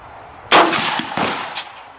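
Three sharp gunshots crack out at a shooting range, each followed by a brief ringing tail. The last shot is slightly weaker than the first two.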